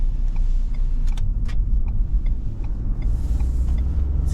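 A 2023 Ford F-150 PowerBoost hybrid pickup accelerating onto a freeway, heard from inside the cab: a steady low road and engine rumble with faint ticks and a soft rising whoosh near the end.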